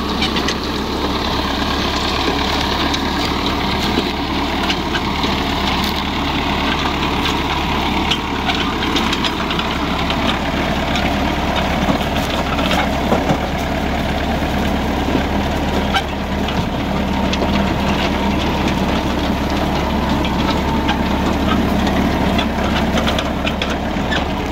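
An Al-Nasr 65 tractor's engine runs steadily while the machine works the field and breaks up large soil clods, giving a loud, continuous diesel drone with a rattling mechanical texture throughout.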